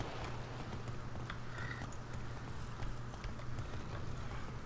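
Rapid, continuous clip-clop of a horse-like creature's hooves trotting along in the game F.E.A.R. 3, set against a dense, noisy background.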